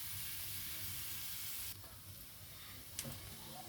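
Fish roe fries with spices in a hot pan while being stirred, making a steady, close sizzle that dips slightly midway, with a brief utensil clink near the end.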